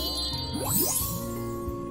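A bright bell chime from the dating puzzle game Huniepop rings out over light tinkling game effects and a steady musical backdrop, with no talking.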